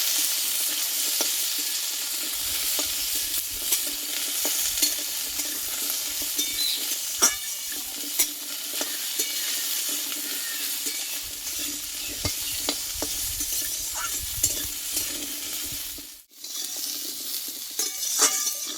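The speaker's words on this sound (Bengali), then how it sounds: "পেঁপেটা আমি একটু এই তেলটা একটু কষে নেবো" Cut papaya stir-fried in oil for a lightly spiced Bengali dish: a loud, steady hiss of frying runs throughout, broken by intermittent stirring scrapes and one brief clank of utensil on pan.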